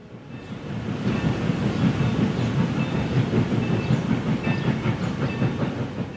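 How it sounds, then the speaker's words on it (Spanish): Railway train rolling along the tracks, a loud continuous rumble with rhythmic clickety-clack of wheels over rail joints, building up in the first second and then holding steady. "Un enviado especial de don Venustiano Carranza iba en ese ferrocarril"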